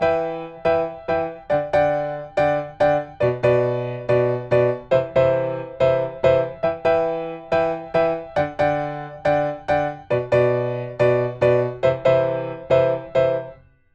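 Solo piano plays the main riff of a song: a steady, fast run of repeated chord stabs with a bass line beneath, loud and close, with no talking.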